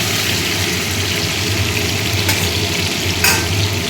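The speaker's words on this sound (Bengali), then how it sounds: "চিংড়ি মাছগুলো ভেজে নিচ্ছি" Prawns fry in hot oil in a pan, giving a loud, continuous sizzle with scraping stirs and a couple of sharp crackles, close by and with no voices over it.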